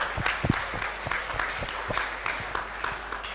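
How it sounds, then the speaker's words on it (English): A seminar audience at an alumni homecoming claps for a retiring professor emeritus, a moderate scattered round of hand claps with distinct individual slaps, fairly close. "A hand of applause."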